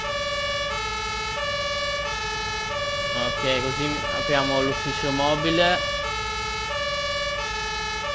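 Fire truck siren in Farming Simulator 19, wailing in a steady repeating cycle across the whole stretch, with someone talking over it in the middle.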